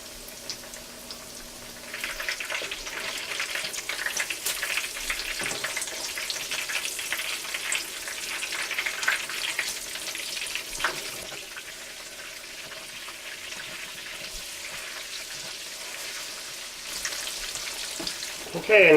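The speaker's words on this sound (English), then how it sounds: "I'm going to fry this for probably 2 or 3 minutes until it's golden brown" Kasseri cheese slices frying in oil, a continuous close sizzle and bubbling hiss that swells after a couple of seconds, with occasional stirring clicks and a clatter at the very end.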